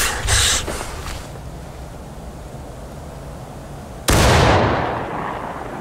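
A musket volley from a line of infantry in the Civil War game War of Rights, heard as two loud, ragged cracks several seconds apart. Each is a near, crowded burst that fades into a long echoing rumble.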